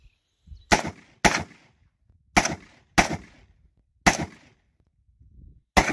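WASR 10/63 AK-47 rifle fired at several targets outdoors, six sharp loud single shots spaced roughly half a second to a second apart, each cracking close and decaying quickly.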